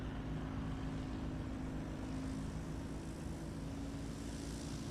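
A STOL airplane takes off at Music City Executive Airport, its propeller engine a steady, faint drone heard from a distance with no talk.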